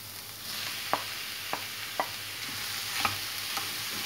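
Kefta frying with browned onions in a pan, an even low sizzle with several spaced taps of a spoon against the pan while stirring.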